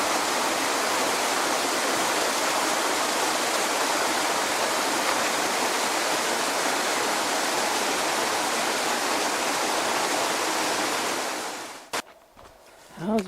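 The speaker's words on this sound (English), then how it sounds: "That was a pretty sweet little waterfall." A small waterfall on Vancouver Island pours steadily into a pool, a loud, even rushing wash close by that fills the scene for about twelve seconds before cutting off into quiet handling noises.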